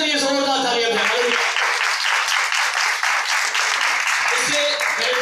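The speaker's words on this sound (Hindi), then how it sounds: "खुदावंद के जलाल के लिए जोरदार तालियां दें।" Loud, sustained applause from a church congregation during a service, a dense wash of clapping that carries steadily for about five seconds.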